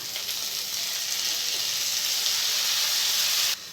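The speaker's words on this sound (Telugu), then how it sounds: "మనమైతే రెండు టమాటాలు అండి నేను సన్నగా కోసుకొని ముక్కలు వేసుకుంటున్నాను" Chopped tomatoes hit a hot pan while making okra (ladies finger) curry, giving a loud, steady hiss of sizzling that holds evenly for several seconds, then cuts off abruptly near the end.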